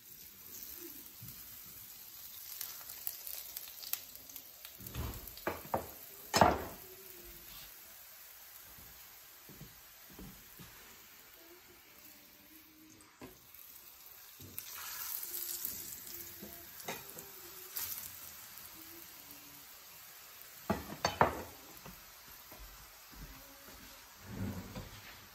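A methi paratha cooks in oil on a griddle with a low, steady sizzle. Scattered clatters and scrapes of a spatula and utensils come and go over the sizzle, with no talking.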